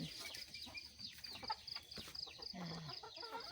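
Egg-laying hens kept for home eggs cluck and squawk in an irregular chorus on a small farm, close and moderately loud, with no voices.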